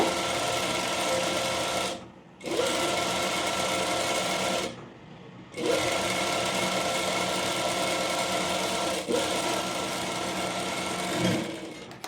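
A sewing machine runs steadily while stitching a layered frill frock, its close mechanical whir continuing with two brief pauses and no talk.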